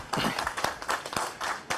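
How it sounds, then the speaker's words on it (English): A short round of applause from an online internet governance meeting audience, a scatter of individual claps with irregular rhythm, fairly close and moderate in level, fading and returning briefly. "quick round of applause to Albert"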